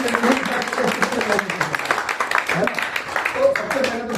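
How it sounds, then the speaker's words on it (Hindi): Audience applause at a property investment seminar, steady and fairly loud throughout, with voices and cheering mixed into the clapping. "ये इसके लिए जोरदार ताली होना चाहिए"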